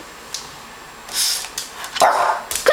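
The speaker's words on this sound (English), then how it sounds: "Mia, say woof." A pet dog gives a few short barks and yips on command indoors, close by, with brief pauses between the sounds.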